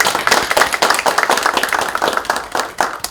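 A crowd claps together at a Korean political party committee launch ceremony, brisk, loud and evenly spread across the moment with no talking.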